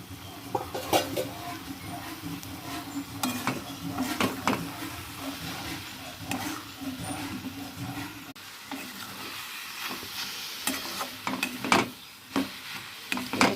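Food being stirred in a covered pan while cooking without added water, with scraping and clatter of a utensil over soft sizzling, a few louder knocks standing out; distant chicken clucks sound faintly in the background.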